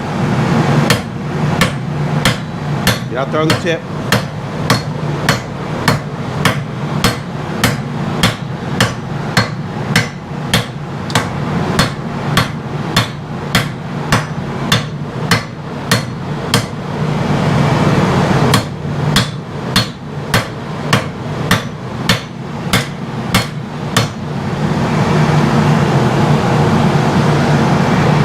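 A hammer strikes a blade being forged on an anvil in a steady rhythm of sharp metallic blows, close and loud, with a brief pause before the strikes resume and then stop, while a voice speaks briefly.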